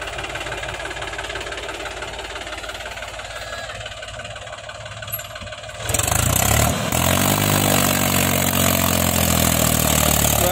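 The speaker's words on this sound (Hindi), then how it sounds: "धीरे धीरे बहुत धीरे धीरे सड़क रहा ट्रैक्टर।" A Mahindra 265 DI tractor strains to haul a heavily loaded trolley over soft, wet mud, its engine chugging steadily at first, then rising sharply louder and deeper as it digs in under heavy load, close and continuous.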